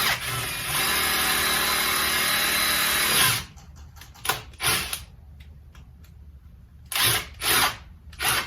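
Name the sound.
power drill drilling hole in plastic bucket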